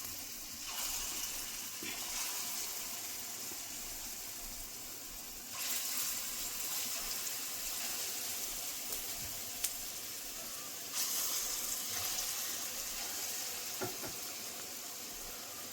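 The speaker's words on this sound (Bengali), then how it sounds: "এখন তেলের মধ্যে দিয়ে দেবো, ছোট ছোট করে ভেজে নেবো" Chickpea lentil fritters fry in hot oil with a steady, soft sizzle that runs throughout, with a few faint clinks and shifts in intensity along the way.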